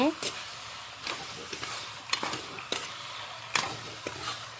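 Salted country chicken is stirred in a pan, giving a soft background sizzle broken by several separate scraping strokes and clatters spaced about a second apart.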